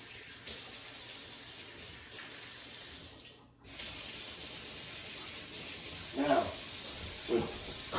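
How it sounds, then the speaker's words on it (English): Kitchen tap water runs steadily into a sink while hands are rinsed during spaghetti cooking, a continuous close hiss with a brief break partway through and a few soft splashes near the end. "Rinse our hands off."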